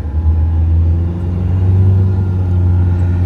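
Toyota Hilux engine held at high revs during a 4x4 traction test, a loud, steady droning hum from close by with no talking.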